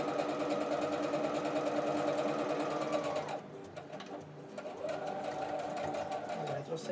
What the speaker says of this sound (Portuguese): Vou começar a costurar. Vou dar um retrocesso. E vou costurar até o final.